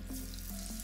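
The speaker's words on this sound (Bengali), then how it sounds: "এবার গরম তেলের ভেতর ছেড়ে দিচ্ছি" Bread pakora batter dropped into hot oil, a faint, brief crackle and fizz of frying over a low steady hum.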